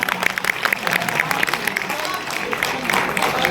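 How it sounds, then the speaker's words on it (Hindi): Audience applause at a Hindi comic poetry recital, steady crowd clapping throughout with voices mixed in. "ताली बजाइए तो आगे बढ़ते।"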